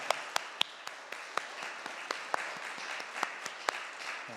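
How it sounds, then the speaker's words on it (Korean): Congregation applauding during a Sunday morning church service at an air force base chapel: dense, fairly steady clapping from many hands with sharper individual claps standing out, moderately quiet and heard alone. "하나님께 영광을 박수 올려드리겠습니다."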